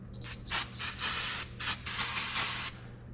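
Short bursts of primer being sprayed onto an 1855 restoration part, several hissing blasts in quick succession with brief gaps, close and fairly loud over a low steady hum.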